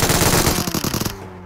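Sustained automatic machine gun fire in a video game, a loud rapid burst of shots lasting about a second before cutting off into a brief fading tail.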